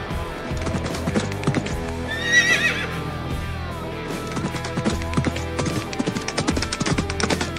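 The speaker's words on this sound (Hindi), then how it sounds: "मेरा घोड़ा कहां है?" A horse in the Minecraft video game gives a loud neigh partway through, with clip-clopping hooves and busy game sounds around it.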